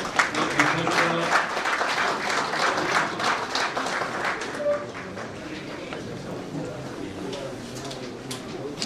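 Applause from the crowd at a Korean Protestant church federation's general assembly, a dense steady clatter of many hands that tapers off, with a voice speaking faintly over it.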